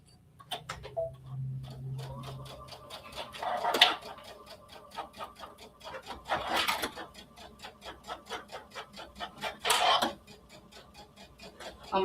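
A sewing machine stitches a quilted heart bag in fast, even ticking runs. The runs pause briefly now and then, with a few louder clunks as the fabric is handled, close and clear.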